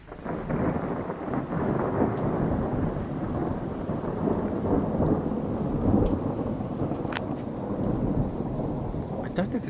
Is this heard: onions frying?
no